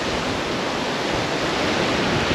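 Shallow sea water swirls around wading feet at Horseshoe Bay in Bowen, a steady, close hiss of washing water that holds even and unbroken, with no voices.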